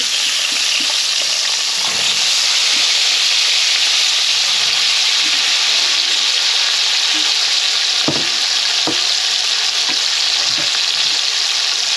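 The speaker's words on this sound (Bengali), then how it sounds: "এখন এই বেগুনগুলোকে আমি একদম লাল লাল করে একটু ভেজে নেবো" Brinjal pieces fry in hot oil with turmeric, giving a loud, constant close sizzle throughout, with occasional soft knocks and stirring scrapes underneath.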